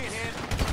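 Gunfire in the game GTA 5, a brief burst of shots landing near the end of a short moment, loud under and after background voices.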